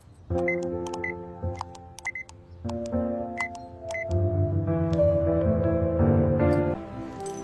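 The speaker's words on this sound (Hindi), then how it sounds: "नेहा ने तुरंत अपना फोन उठाया और एक नंबर डायल किया।" A series of electronic keypad tones, short beeps one after another at an uneven pace, as a number is dialed on a mobile phone.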